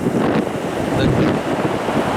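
Stormy sea at Sochi sends waves crashing and surging under heavy wind buffeting a nearby microphone, a loud continuous roar with no pause.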